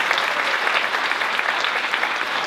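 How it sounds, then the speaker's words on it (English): Audience at the DC South Asian Literature Festival claps steadily, a dense, even round of applause heard close with no talk over it. "Let's give them a round of applause."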